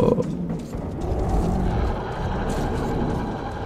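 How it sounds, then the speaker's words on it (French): Monsters roar in the video game Metro 2033 Redux, a deep, continuous growling rumble that stays loud and steady throughout, with no talk over it. "J'entends des monstres"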